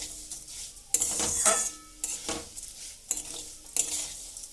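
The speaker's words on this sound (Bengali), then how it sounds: "তো এটাকে সমানে তেলের মধ্যে নাড়াচাড়া করে আমি ভেজে নেব।" Vermicelli (semai) fries in oil as a utensil stirs it around the pan, giving rhythmic bursts of scraping and soft sizzling, close and moderately loud.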